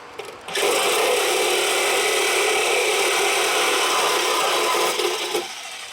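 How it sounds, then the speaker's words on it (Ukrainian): A power tool cuts off a seized, rounded-off bolt during removal of a 2.5 litre engine from a Nissan Navara that spent five years underground. The cut starts abruptly as a loud, steady, harsh grinding whine, holds for about five seconds, then stops. "ми дістали серйозний апарат і зараз то буде відрізати"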